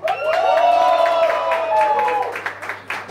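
Audience applause at a televised music tribute show as a performer is called forward; a strong sung or spoken voice dominates while scattered clapping builds underneath and comes through near the end.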